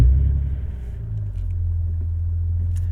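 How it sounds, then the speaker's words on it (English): A 2006 Lexus IS350 with a cat-delete exhaust drives on the road, its engine giving a deep, steady rumble that is loud at first, eases slightly, then holds an even drone with no talking. "let's go ahead and hop on the road and go for a drive"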